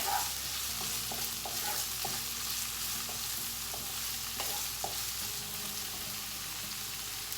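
Paneer cubes fry in a pan for spicy paneer fried rice, giving a steady, even sizzle with soft, occasional clinks and scrapes of stirring, close by and with no one speaking.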